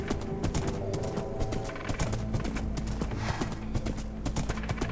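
A horse gallops in Minecraft, with rapid, evenly repeating hoof clip-clops that are loud and close and run without a break, and a whinny shows up faintly in the mix.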